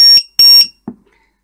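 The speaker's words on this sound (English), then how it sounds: "Double beep." A LiPo cell tester gives a loud, close double beep, two short high-pitched tones in quick succession, followed by a faint soft click.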